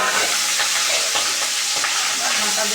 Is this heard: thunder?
no